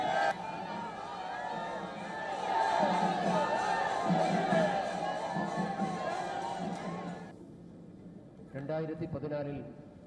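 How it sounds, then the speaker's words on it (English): Enthusiastic street crowds in Kerala greet Prime Minister Modi with loud cheering, shouting and clamour that swell and then drop away, followed by a brief burst of nearby voices. "In Kerala, Prime Minister Modi was greeted by enthusiastic crowds who lined the streets to welcome him."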